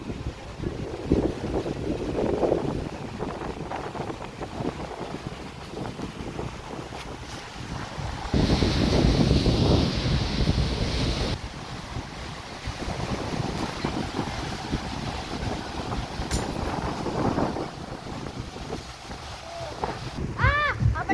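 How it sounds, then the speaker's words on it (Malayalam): Strong wind blowing at a beach, a steady roaring rush buffeting the microphone, with a louder gust in the middle and faint surf and distant sounds underneath. "നല്ല കാറ്റടിക്കുന്നുണ്ട്"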